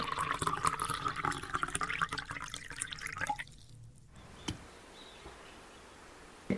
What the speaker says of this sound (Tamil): இப்ப நாங்க முதல்ல ஒரு சட்டிக்குள்ள தண்ணி எடுப்போம்